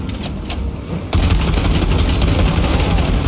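Sustained gunfire in Warhammer 40K: Space Marine 2 bursts in loudly after a brief lull and keeps going as a dense, continuous rattle mixed with game effects.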